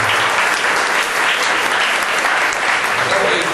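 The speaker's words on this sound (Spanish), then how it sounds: "a quien pedimos un fuerte aplauso" Loud, dense audience applause greeting a young teacher before a talk on genetically modified foods, sustained clapping throughout with crowd noise underneath.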